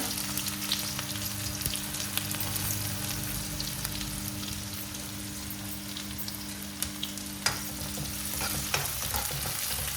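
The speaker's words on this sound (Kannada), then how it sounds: "ಜೀರಿಗೆ, ಚಟ್ಪಟ ಅನ್ನತೈತಿ" Cumin and mustard seeds crackle in hot oil as onion fries for palak paratha, a steady close sizzle with scattered sharp pops over a faint low hum and no talking.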